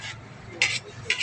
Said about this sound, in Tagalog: Tapos yan po yung ginigisa po yung sahog.